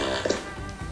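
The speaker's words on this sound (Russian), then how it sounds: "чтобы вы услышали, как он пукает" A short, wet, buzzy fart sound effect from a prison-escape video game, a single squelchy burst under a second long.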